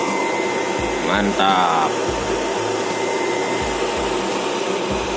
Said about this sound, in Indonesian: Akhirnya kipas nyala kenceng nih.